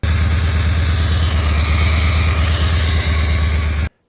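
A faulty dyno runs with an engine or motorcycle drivetrain turning over, giving a loud, steady droning rumble with a rapid pulsing beat that cuts off abruptly near the end.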